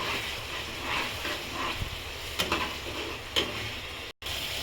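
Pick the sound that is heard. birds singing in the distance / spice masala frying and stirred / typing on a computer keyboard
spice masala frying and stirred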